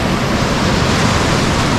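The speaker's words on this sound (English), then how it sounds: "Waves way out there look too big for me." Ocean surf at Waipu Cove breaks on the beach in a steady, loud wash of broadband noise, close and continuous with no voices over it.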